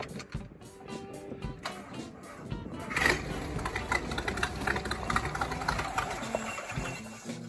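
Jeep CJ5 engine fitted with a Quadrajet carburetor running at a high idle, a steady close mechanical drone that swells louder around midway and holds with rapid rattly pulsing.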